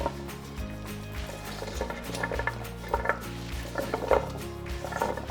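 Carrots tumble into a pot of simmering Swiss steak sauce, with clinks and soft knocks of a utensil against the pot over a steady background hum, fairly close and moderate in level, no talking.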